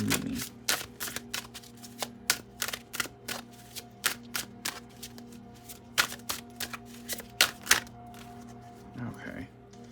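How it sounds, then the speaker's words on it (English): Tarot cards are flipped and shuffled on a table in a quick, irregular series of crisp snaps and slaps, close by, with a voice talking softly between them. "There's too many cards flipped over, so we'll flip them back in."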